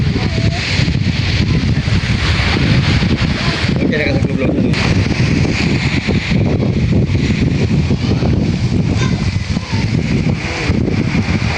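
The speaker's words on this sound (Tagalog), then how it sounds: "Parang medyo malakas daw po yung hangin." Strong wind buffeting the microphone on a Philippine seashore, a steady roaring rumble with gusts throughout and faint rustling, loud and continuous with no other clear sounds.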